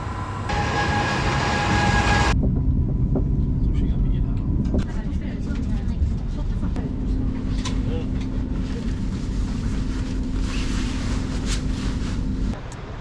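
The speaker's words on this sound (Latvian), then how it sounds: "Un vilciens jau nāk, un es šādā veidā sagaidīšu viņu." A passenger train arrives at Stavanger, a steady loud rumble of rail wheels rolling close by with a sustained hum, after a brief tonal chime at the start.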